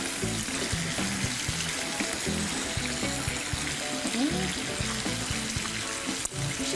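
Marbled cheddar is rubbed against a grater in quick, even rasping strokes, close and steady, with a faint voice now and then.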